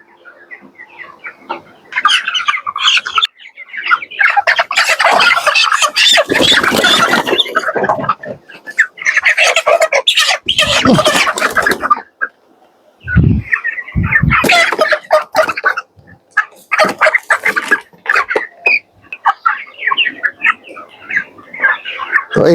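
Thirty-day-old broiler chickens cluck and squawk loudly as they are caught and lifted for weighing, a dense, agitated flurry of calls with brief lulls, close by and with no talking.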